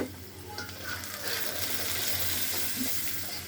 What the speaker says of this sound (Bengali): পেঁয়াজ কুচি দিয়ে দিব 1 টেবিল চামচ